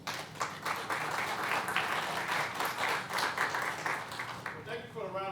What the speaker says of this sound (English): Thank you for the round of applause.